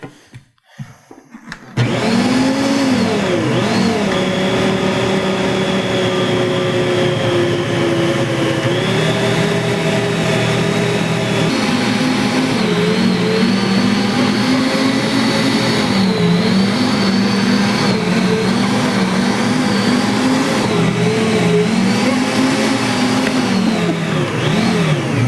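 A KitchenAid Professional 600 or Bosch stand mixer kneads bread dough with a steady, loud motor whine that runs continuously, pitch wavering slightly as the load shifts, after a brief quiet start.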